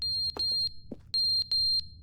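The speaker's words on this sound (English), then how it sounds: "I don't need that fire alarm." A fire alarm in The Stanley Parable gives repeated high, piercing electronic beeps in short bursts with brief gaps, loud and close, while faint thumps sound between them.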